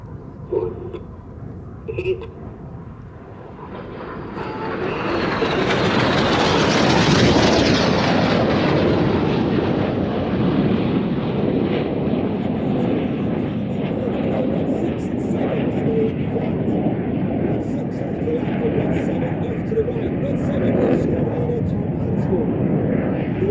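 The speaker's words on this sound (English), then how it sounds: "Each pair will now dive down to approximately 100 feet above the airfield." Red Arrows jets diving to about 100 feet over the airfield at an air show, a loud roaring jet pass that swells and then lingers as a broad rumble, with an announcer talking over it.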